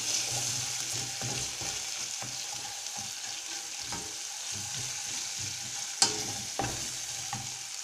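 A tomato mixture sautéing in a pan for savory crêpes, a steady close sizzle with repeated scraping stir strokes and one sharp clink, no talking.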